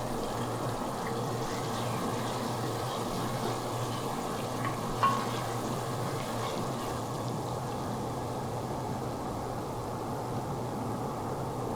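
Onions and garlic cook down in a pan for a staff lasagna, producing a steady, soft, even sizzle throughout with a single faint clink partway through.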